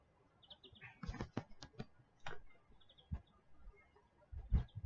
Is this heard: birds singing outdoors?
yes